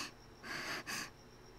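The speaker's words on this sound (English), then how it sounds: "I hear heavy breathing" Heavy breathing from a crouching figure in the visual novel World End Syndrome: two close, raspy breaths in quick succession, the second shorter, in an otherwise quiet scene.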